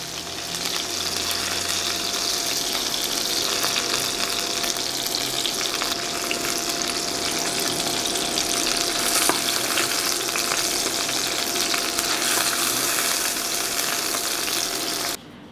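Potato dumplings (valjušci) fry in hot fat in a pan, giving a continuous, even sizzle and crackle that runs loud and steady throughout with no talk.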